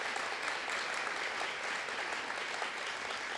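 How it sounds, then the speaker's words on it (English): An audience at a client reflections event applauds: sustained, dense clapping with a steady, even level throughout. It sounds like a full room, with no voices above it. "please let her give a little bit longer applause for all 8 of them"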